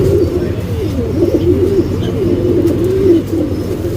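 A female Jacobin pigeon coos in a steady rolling murmur, close and fairly loud, with the low throaty calls carrying on almost without pause and no one talking.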